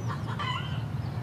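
Free-range hen of a traditional Normandy breed, raised outdoors on a farm, clucking softly in a short burst of a few calls over low steady background noise, with no talk.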